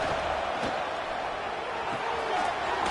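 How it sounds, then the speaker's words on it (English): Stadium crowd noise from an NCAA Football 26 college football game, a steady, broad roar of cheering fans throughout with a few brief swells, with no voices standing out. "Listen to the crowd energy here in the early going."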